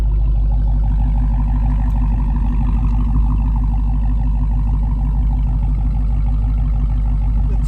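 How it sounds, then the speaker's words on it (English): Dodge SRT Hellcat Charger engine running close by, a deep, heavy low rumble held steady throughout, with little clear change in revs. "I'll do a couple of revs."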